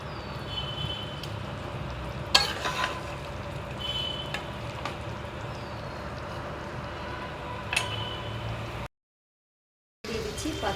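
Dried chillies frying in oil with mango pickle in a pan on the stove give a steady close sizzle, broken by a few sharp scraping knocks as the mix is stirred.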